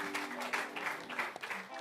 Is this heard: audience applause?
yes